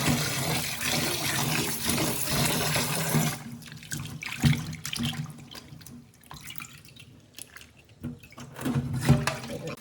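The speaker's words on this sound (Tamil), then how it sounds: "மீனை தேவையான துண்டுகளாக கட் பண்ணிவிட்டு 2-3 தடவை தண்ணியில் வாஷ் பண்ணிக்கலாம்." Cut fish pieces are rinsed in water, first under a steady stream from a tap and then with sloshing and splashing as they are handled, in a village-style kitchen.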